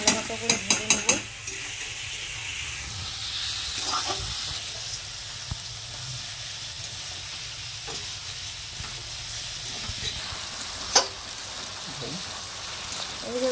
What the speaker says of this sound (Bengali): আলুগুলো দিয়ে ভালো মতো করে ভেজে নেব।